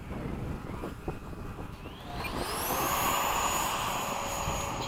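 FMS 80mm Hawk RC model jets flying in formation, a rising electric ducted-fan whine that climbs in pitch as the jets pass, over steady wind noise outdoors.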